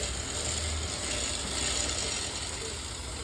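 A motorcycle chain being lubricated with chain oil gives a steady mechanical whir and hiss throughout, close and even in level.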